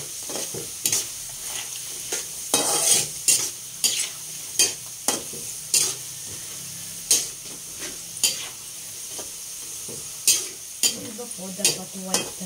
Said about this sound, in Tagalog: Tapos haluin lang po ng haluin siya